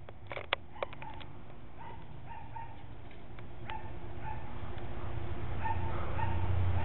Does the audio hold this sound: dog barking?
yes